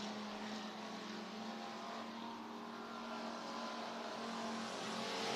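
Stock cars racing side by side through the turns at Worthington Speedway, a steady loud engine roar with a droning hum, continuous and unbroken throughout.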